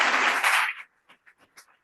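An audience at a school talk on art and caring for a violence-free school claps in a short dense burst of applause that fades quickly into a few scattered final claps.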